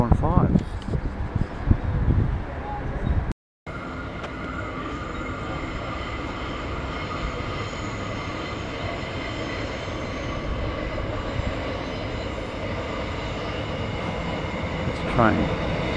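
Steady rumble of a train idling at a station platform on the Kippa-Ring line in Brisbane, with a brief break early on and people talking over the noise at the start.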